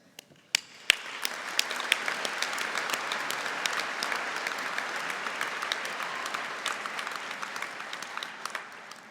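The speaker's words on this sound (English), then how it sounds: "Let's keep the applause going" Sustained audience applause fills a large hall at a spring college convocation ceremony, dense and steady for the full stretch with sharp individual claps standing out near the start.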